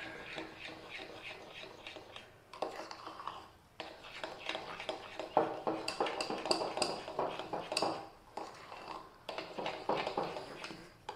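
A spoon scrapes and clinks around a bowl as rava batter for Konkani dhodak is mixed, quiet, repeated stirring taps and knocks continuing throughout.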